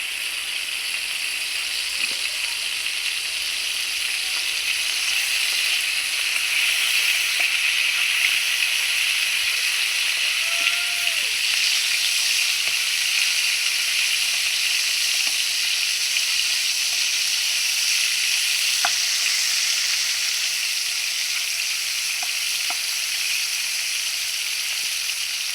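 Chicken frying in a pan, a loud, continuous hiss and crackle that stays steady the whole time, with occasional small pops and spits breaking through the even sizzle.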